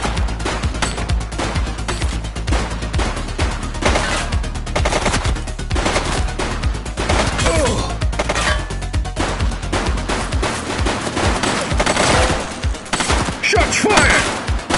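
Sustained bursts of automatic gunfire in the police video game The Precinct, dense rapid shots with heavy crashing impacts, loud and close throughout.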